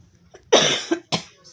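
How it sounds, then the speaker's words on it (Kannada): A person coughs indoors in a kitchen while cooking rice payasa, a sharp close cough followed by two shorter coughs in quick succession. "ಕೆಮ್ಮು ಬರ್ತಾಯಿದೆ ಯಾಕೋ"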